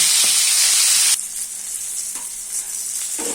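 Bengali morola fish fritters (bora) sizzling loudly in a pan of hot oil, a dense steady hiss that drops abruptly to a softer sizzle as the pieces are turned, with a few light clinks from the turner.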